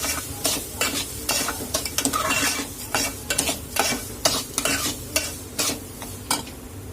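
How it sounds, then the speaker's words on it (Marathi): A spoon stirs mango sheera with milk cream in a pan, giving repeated rhythmic scraping strokes over a soft sizzle, close and fairly loud, with no voices. "दुधाची साय घालून घेणार आहोत आणि छान याला परत एकदा मिक्स करून घ्यायचं आहे"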